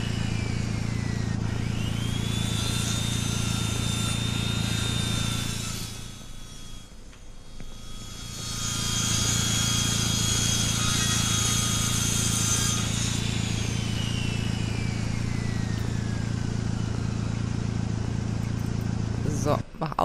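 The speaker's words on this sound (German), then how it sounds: "jetzt braucht die auch noch so verdammt lange hier die Säge" A saw in the ranch-building video game Ranch Simulator drones loudly and steadily, with a buzzing motor tone that dips briefly midway and then returns at full strength, running alone without speech.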